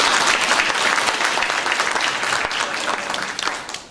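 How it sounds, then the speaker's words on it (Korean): Lively applause from the audience at a public hearing in Gumi, loud dense clapping that holds steady before tapering off at the close. "우리 좀 더 힘차게 일나가게 박수해 주시면 고맙겠습니다."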